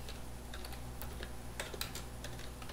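Quiet, close typing on a computer keyboard, with brisk irregular key clicks over a low steady hum.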